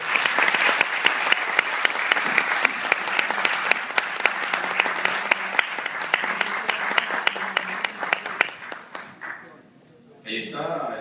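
Audience applause at a book-launch event in Higüey following a speech, a sustained burst of many hands clapping, loud and steady before tapering off, with a voice speaking through it.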